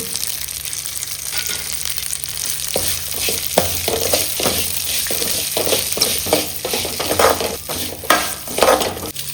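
Mustard seeds, curry leaves and asafoetida fry in coconut oil for a mango pickle tempering, a loud, close, continuous sizzle broken by repeated scraping strokes of stirring.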